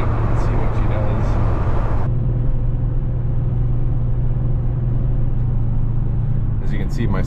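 A Chevrolet Trailblazer with newly replaced inner and outer tie rods drives along a street, its low road rumble and engine drone steady throughout, with brief talk at the start and end.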